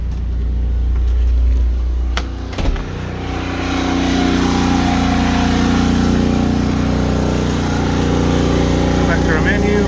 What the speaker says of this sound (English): Oh, there goes the generator.